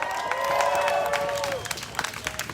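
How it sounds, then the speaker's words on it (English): Crowd applause and cheering at an outdoor community rally in New York City, with a shouted voice rising over the clapping early on before the applause continues in scattered bursts. "Clap it up for Vivian one more time"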